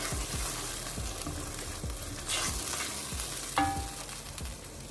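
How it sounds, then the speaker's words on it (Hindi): Bhindi chicken being mixed in a pan, a low sizzle under repeated rhythmic spatula scrapes and knocks, one sharper metallic clink near the end, close and without talk. "और इसको हम अच्छे से मिक्स कर लेते हैं।"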